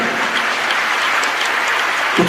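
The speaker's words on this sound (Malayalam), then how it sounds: "അത് കൈയടിച്ച ദൈവത്തിന്റെ മക്കള് പോരാ," A church congregation claps loudly and steadily, a dense continuous wash of many hands filling the room without a break.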